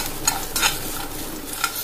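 Pumpkin seeds dry-roast in an oil-free wok over a low flame, giving a soft, steady rattle and scrape as they are stirred, with a few brighter clinks of the spoon against the metal.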